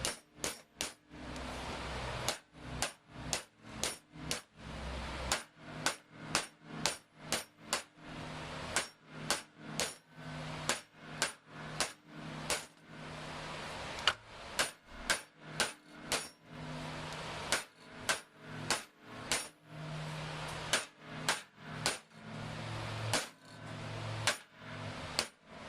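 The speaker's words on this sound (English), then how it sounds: "we're going to drive the bearing into the bearing retainer, making sure that we're just driving on the outer race as we're tapping it in" A punch is hammered against the outer race of a bearing to drive it into the bearing retainer of a Ford Bronco NV3550 transmission, giving sharp metallic taps in steady rapid bursts, close and loud, with no talking.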